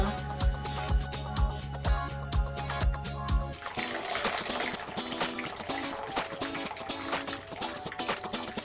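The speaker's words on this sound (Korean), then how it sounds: "찬물에 시켜서 헹궈줄 거예요" Blanched perilla shoots are rinsed in cold water in a home kitchen, a close rush and splash of running water after some rhythmic kitchen tapping.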